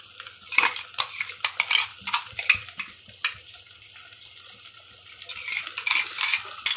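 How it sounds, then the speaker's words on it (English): Fish curry paste stirred in a pan, a close sequence of clinking spoon taps and wet scraping strokes, busier at the start and end with a quieter stretch between. "Just keep on stirring for about 30 seconds."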